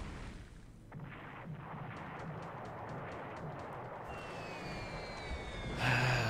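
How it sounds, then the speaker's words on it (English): Explosion below deck on a ship in the War in the Pacific video game: a steady rumbling din with a series of sharp, regular cracks, descending whistles, then a louder booming burst at the end. "Explosion below deck."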